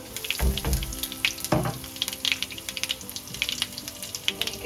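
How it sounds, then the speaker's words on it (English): Cumin seeds, dried red chilies and hing sizzle in hot oil, a bright crackling hiss with several loud bursts and spits as the spices hit the pan, followed by lively popping. "you can add in your cumin seeds, your red dry chilies, and your hing."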